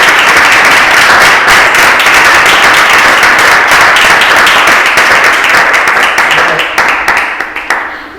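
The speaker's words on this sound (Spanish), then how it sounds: "lo primero que me gustaría era ir a pedir un aplauso en forma de agradecimiento por su presencia" An audience at a talk bursts into sustained applause, dense steady clapping from many hands that holds strong before thinning into scattered claps at the end.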